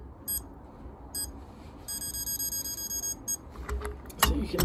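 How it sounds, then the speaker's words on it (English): Several short high electronic beeps from a torque wrench reaching full torque sound in a steady series over low mechanical background noise, followed by a brief clatter of metal at the end. "You can basically hear or see when this is reaching full torque by either the beeps"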